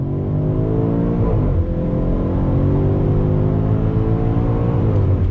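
A 2021 BMW X5 M Competition SUV with over 600 horsepower accelerates on full throttle in Sport Plus mode, its engine a loud, steady, rising roar heard from inside the cabin with a brief dip as it shifts, no voices over it.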